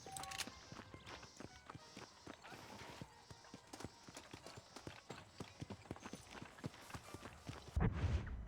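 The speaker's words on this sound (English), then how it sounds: "Now my horse is running off." A horse in the Red Dead Redemption video game runs off, its steady hoofbeats clopping rhythmically and fairly quietly throughout, ending with a louder thump of movement, with no speech.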